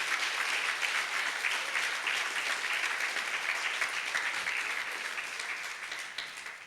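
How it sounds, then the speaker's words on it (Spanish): A church congregation claps in sustained, even applause for several seconds, a dense crackling wash of many hands at moderate distance that thins slightly toward the end. "Vamos a darle otro fuerte aplauso a nuestro Señor"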